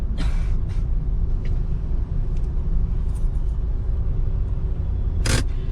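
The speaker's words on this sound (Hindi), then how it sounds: "रेड लाइट है, हम इधर रोकेंगे गाड़ी को।" A car comes to a stop at a red light in city traffic, with a steady low engine and road rumble throughout and a few short hissing bursts, the loudest near the end like an air brake from a nearby vehicle.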